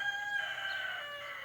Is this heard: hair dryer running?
no